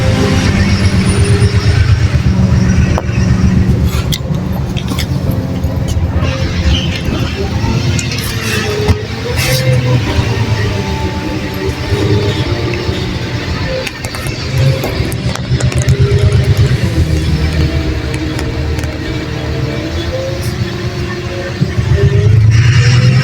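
Steady low hum and throb of a city bus engine heard from inside the nearly empty, unheated cabin, with rattles and clunks over the ride and someone talking over it.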